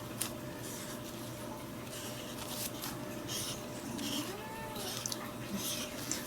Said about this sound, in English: My kitty cat is hollering to me.